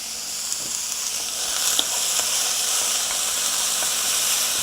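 Onions browning in a hot pan with a little salt for cauliflower rice, giving a steady, close, bright sizzle and hiss that runs without a break, with faint stirring clicks and no talk.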